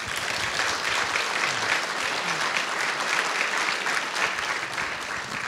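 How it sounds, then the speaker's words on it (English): Audience applause at a talk on an energy-positive island, dense steady clapping from a crowd lasting several seconds without a break. "They always clap for you."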